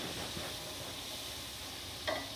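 Frozen vegetables sizzling in leftover chicken oil for chicken and yellow rice, a steady broad hiss of frying with a brief louder crackle near the end.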